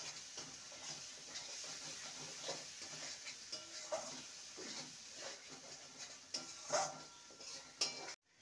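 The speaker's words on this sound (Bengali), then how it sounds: "এবার ভেজে রাখা আলুর টুকরোগুলো দিয়ে দেবো। মশলার সাথে ভালো করে কষিয়ে নেব।" Fried potato pieces stirred into sizzling masala in a pan for a vegetarian besan and potato dish: steady frying hiss with repeated scraping spatula strokes and occasional metal clinks, close up, no talk.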